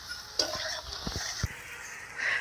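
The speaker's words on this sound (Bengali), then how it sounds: "নেওয়ার পরে সুন্দর করে কষিয়ে নেবো" Potato, soya chunks and pointed gourd being sautéed and stirred in a pan, with a soft steady sizzle under scattered scraping spoon clicks and knocks against the metal, close and fairly quiet.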